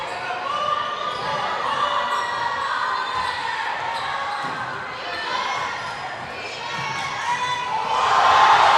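A high school girls' basketball crowd cheers and shouts at a Weslaco at Edinburg seeding game, steady roaring noise swelling louder at the end, with a ball bouncing and voices under it.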